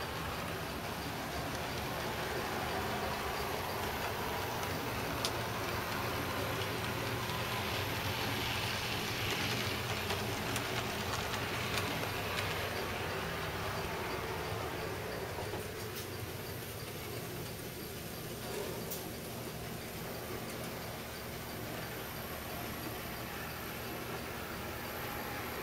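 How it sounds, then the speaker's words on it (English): A model cleaning train runs on a home layout with a cleaning pad dragging under a boxcar, giving a steady, close rolling rumble and hum that continues evenly throughout. "This is my cleaning train. See the cleaning pad dragging underneath the boxcar there?"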